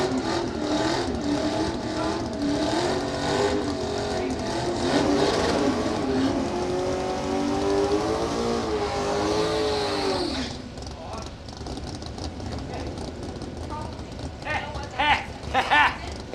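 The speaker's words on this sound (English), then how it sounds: "Michael Langfried in the BMW" BMW race car at a Friday test and tune drag event, its engine roaring loudly and warbling in pitch for about ten seconds before dropping away into softer crowd and track noise, with a commentator talking over it.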